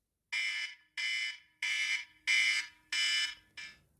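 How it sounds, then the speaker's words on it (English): An electronic alarm beeps six times in a steady rhythm, each tone loud, piercing and evenly spaced, with silence between them. "there will be an alarm, and it will sound like this."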